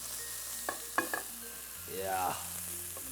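Honey-marinated Asian chicken sizzles on a hot grill as it is pressed down, giving a steady close frying hiss with a few small metallic taps and a brief squeaky scrape.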